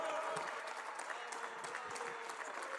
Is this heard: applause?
yes